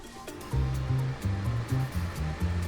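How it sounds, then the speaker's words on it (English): Nissan Kicks e-Power car air vent fan running at maximum speed, a steady broadband whoosh of rushing air filling the cabin, with lower rumbling pulses beneath it throughout. "Center the air vent, max fan speed."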